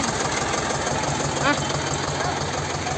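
A tractor stuck in soft ground idles with a steady, close, rumbling engine drone, and a brief voice cuts in partway through.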